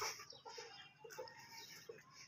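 Hens kept in a rooftop coop cluck softly and repeatedly at a moderate distance, a few short clucks spread across a brief, fairly quiet stretch with faint background noise.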